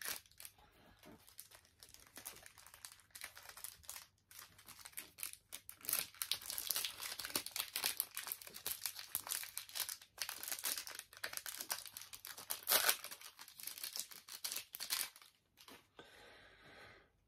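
Foil wrappers of Animal Crossing series 5 card booster packs crinkle and tear as they are opened, a steady close-up rustling with bursts of sharper crackling, faint and without talk.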